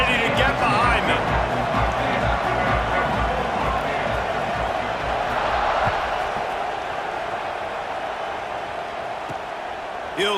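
Stadium crowd roar from a college football video game, Penn State versus Michigan, at the kickoff, a broad loud swell of cheering that gradually eases, with a commentator talking over it.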